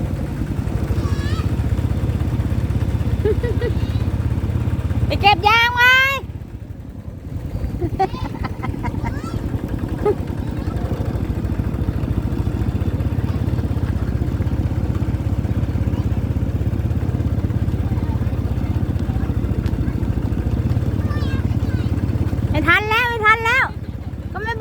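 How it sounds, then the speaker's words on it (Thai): A farm tractor engine rumbles steadily and loudly as it is ridden, a constant low drone running the whole length, with people talking over it and brief high chirping sounds in between. "แล้วก็ไปนั่งรถไถนั่นแหละ นั่งรถไถเล่นนะทุกคน"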